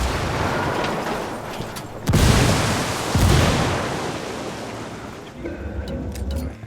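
Frag grenade explosions in Ghost Recon Wildlands, two heavy booms about a second apart that roll out into a rumbling tail, followed by fainter background noise.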